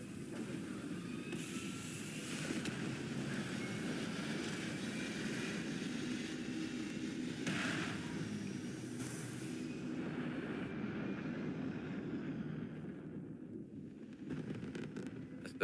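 Spaceship engines in Starfield hum as a steady, moderately loud droning roar with a few brief swells and hisses, with no talking.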